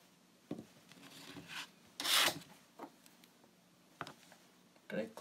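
A nail stamping plate is wiped clean of excess polish in a few short, soft rubbing and scraping strokes, close and fairly quiet, separated by pauses.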